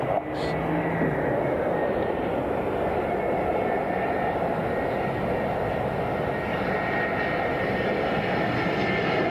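A DHL Boeing 767 cargo jet at Miami International Airport roars steadily with a broad, continuous engine drone that stays loud and even throughout, heard alone with no talk.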